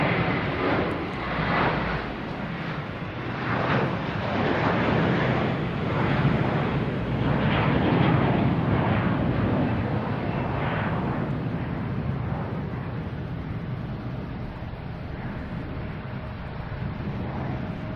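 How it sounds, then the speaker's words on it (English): JetBlue Airbus A321 bound for Orlando taking off at Boston Logan, a sustained broad roar that swells in the middle and slowly eases, with wind buffeting the microphone. "we got JetBlue here heading to Orlando"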